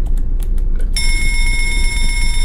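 An alarm rings in the video game Escape the Backrooms, a loud, steady electronic tone with high harmonics that starts abruptly about a second in and holds to the end, after a few short clicking taps.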